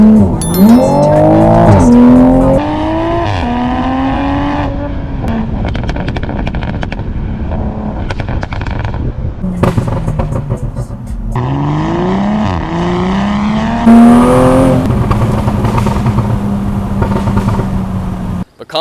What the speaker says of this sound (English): It is a 2020, literally just on a catless downpipe and a custom 93 tune